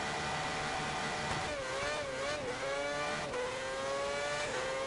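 Race car engine in the video game F1 2010 screams under acceleration, its pitch climbing, dipping at gear shifts and rising again, loud and continuous with no talk over it.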